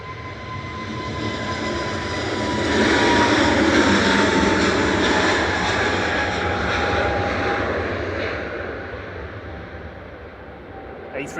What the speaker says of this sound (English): A320 Neo there with flight 727 to Jersey